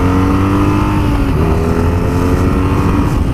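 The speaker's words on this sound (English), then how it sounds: "with the exhaust that BMW put on it, it sounds absolutely lovely" BMW RnineT Racer motorcycle engine with its factory exhaust, a loud, steady running rumble with a slight pitch shift partway through, close up and alone without talk.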